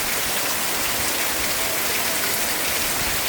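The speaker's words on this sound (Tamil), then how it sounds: "அப்படி மழை பெய்யுது, சரியான மழை பெய்யுது" Heavy rain pouring down on a farm, a dense, steady hiss of drops beating on surfaces, loud and unbroken throughout with no voices.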